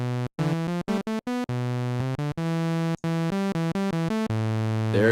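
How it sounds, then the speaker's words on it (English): FM synthesizer sawtooth tone produced with operator feedback in a four-operator patch, played as a rapid run of bright, buzzy staccato notes with short gaps, loud and alone. "There's their sawtooth using just feedback."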